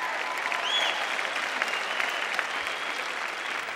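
A large audience claps together in sustained, even applause that sounds moderately distant and steady, without breaks, for a few seconds.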